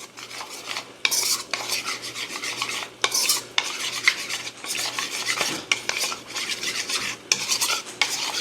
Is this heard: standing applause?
no